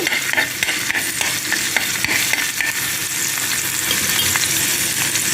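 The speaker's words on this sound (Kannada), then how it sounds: "ಸಣ್ಣಗೆ ಕಟ್ಟು ಮಾಡಿಟ್ಟ ಬೆಳ್ಳುಳ್ಳಿ ಹಾಕಿದ ಮೇಲೆ ಒಳ್ಳೆ ಉರಿ ಇದೆ" Finely chopped garlic frying in oil in a pan over a good flame, a steady loud sizzle with crackling and occasional stirring scrapes running throughout, no voices.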